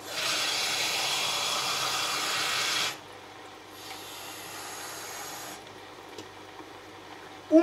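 Water goes into a hot cooking pan for a potato and salt cod stew, giving a loud broad hiss for about three seconds, then a quieter steaming rush that fades and ends with a sharp knock.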